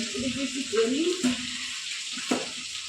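A steady sizzle of food frying in a pan runs throughout, with a voice speaking briefly over it and a couple of clinks.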